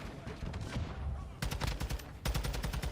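Automatic gunfire in Modern Warfare 2 rattles out in two sharp, loud bursts of rapid shots, separated by a short pause.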